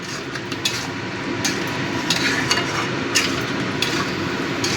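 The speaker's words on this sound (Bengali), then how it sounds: "এবার পনিরের সাথে এই পেস্টটাকে ভালো করে মিশিয়ে দেব।" Spice paste being stirred into paneer in a pan for shahi paneer, a steady close sizzle with repeated scraping and knocking strokes of the spoon against the pan throughout.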